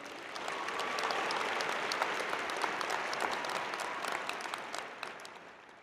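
Steady audience applause at a fall college commencement ceremony, swelling up and holding as a dense wash of clapping before tapering off slightly toward the end.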